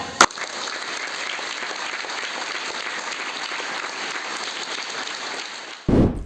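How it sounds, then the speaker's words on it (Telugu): A school audience at a meditation event bursts into loud, dense clapping for a brief moment at the start, followed by a steady hum of the room and a thump at the very end. "చేసిన ధ్యానానికి ఒకసారి గట్టి క్లాప్"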